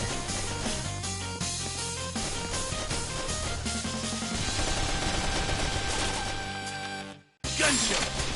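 Video game gunfire, a loud dense stream of rapid shots and crashing impacts that cuts to brief silence near the end before resuming.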